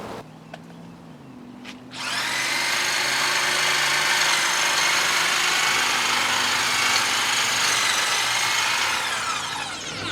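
A saw with 3/4 inch blades cuts through a fallen hardwood branch more than half an inch thick, starting after a brief quiet lead-in and then running as a loud, steady rasping buzz for about eight seconds.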